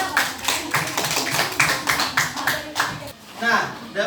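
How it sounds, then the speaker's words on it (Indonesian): A classroom of students clapping together, a quick, uneven run of hand claps lasting a few seconds at close to moderate distance. "Tepuk tangan dulu buat semuanya."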